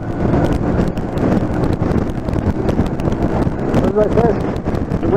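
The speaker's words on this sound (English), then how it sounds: "Oh, windy." Heavy wind buffets the microphone continuously, a loud, steady low roar like riding at speed, with no break throughout.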